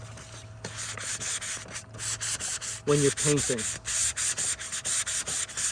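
Rhythmic hand sanding on a wooden louver door, short scratchy strokes repeating close by, with a person speaking briefly in the middle.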